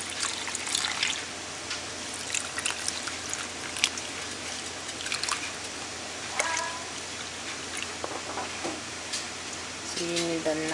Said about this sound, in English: When you're adding water, make sure you add it to the side, like this, not directly on the